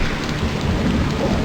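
Steady rain with low rumbling thunder in the Floating Sandbox ship-sinking game, a continuous loud wash of noise with no break across the short stretch.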